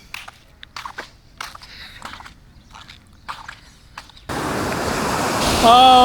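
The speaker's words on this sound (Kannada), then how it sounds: "ನೋಡ್ರಿ ಇಡನ್ ಬೀಚ್ ಅಲೆಗಳು ಹಂಗೆ ಸೌಂಡ್ ಕೇಳಿಸ್ಕೊಳ್ಳಿ ಹೆಂಗೆ." Surf at Eden Beach in Pondicherry, heard after a stretch of scattered voices and light handling sounds: a steady, loud wash of waves bursts in partway through and keeps roaring to the end.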